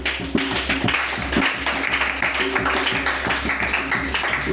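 A congregation at a church service claps in steady rhythm, the loud, continuous clapping mixed with singing or music.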